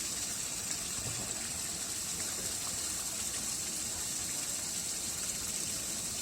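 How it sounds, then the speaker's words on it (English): Heavy rain pours down in a steady, dense roar of water, unbroken and loud throughout, with no voices. "Just sheets of water coming down."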